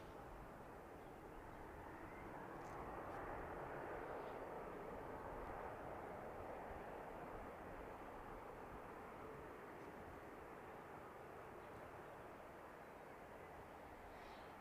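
A huge Emirates airliner taxiing towards takeoff at Manchester Airport on a warm afternoon, its engines a steady, distant broadband roar with no talking.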